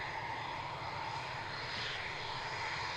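A Eurofighter Typhoon jet crossing runway 27 on an airfield gives a steady, faint engine roar that holds evenly for the whole stretch.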